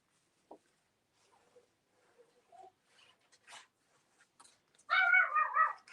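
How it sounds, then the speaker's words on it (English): Dogs bark outside at a neighbor, a few faint distant yelps scattered at first, then a louder run of barking near the end. "I think my neighbor is outside. You hear the dogs?"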